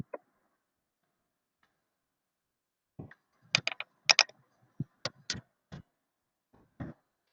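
A computer keyboard being tapped in a few sparse, distinct keystrokes and short clusters, close and crisp against near silence.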